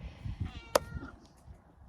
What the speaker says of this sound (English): I don't know whose cat this is.